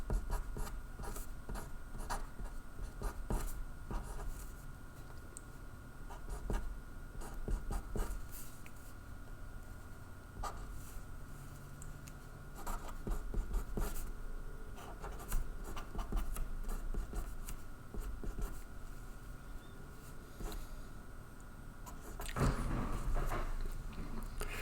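Pen or marker writing out predicate-logic statements, a steady faint scratching and tapping that runs for about twenty-five seconds. It is close but quiet, with a low room hum beneath and no speech.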